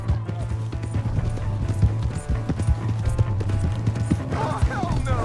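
A horse gallops in the Red Dead Redemption 2 video game: rapid, steady clip-clop hoofbeats over a low game hum, with a brief vocal sound near the end.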